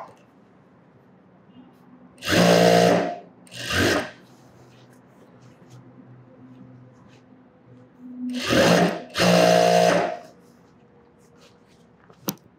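A sewing machine stitches the shoulder seam of a sleeveless top, running in four short bursts that stop and start against a quiet background.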